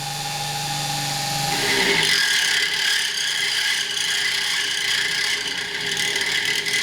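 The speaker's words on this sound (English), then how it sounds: "we're going to start with the very fine tip here on the Dremel at a very slow speed" A Dremel rotary tool spins at slow speed, re-crowning an airgun barrel; its steady whine steps up in pitch about two seconds in as the speed rises, then holds a constant grinding tone.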